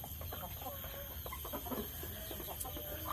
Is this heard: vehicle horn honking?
no